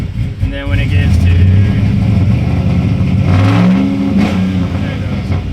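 A turbocharged TBSS engine revs as the gas pedal is tapped, rising and falling in short bursts with a slightly uneven, fluttery character, loud and close.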